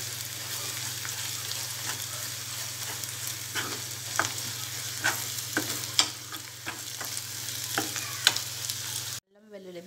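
Onion pieces fry in a pan with a steady crackling sizzle and repeated spatula scrapes and taps. A low electrical hum runs underneath, and the sound cuts off abruptly near the end.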